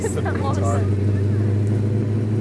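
A Superbird conversion car's engine revs loudly nearby with a deep steady drone and a slight rise in pitch, while a voice briefly speaks over it.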